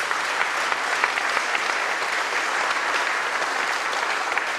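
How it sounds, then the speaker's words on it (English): Dense, sustained applause from a concert audience at a classical Christmas evening, steady and loud throughout with no pauses. "give her a big round of applause"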